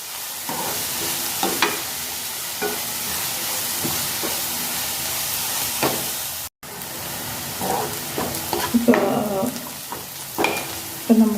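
Onions for egg bhurji sizzle steadily in a hot pan at home, with a bright hiss throughout and repeated scraping, clattering stirs that grow busier toward the end.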